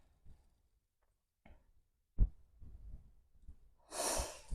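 Soft breathing during a low back yoga stretch, a few quiet breaths and small sounds ending in one long, airy exhale that is close and clear, with no talking.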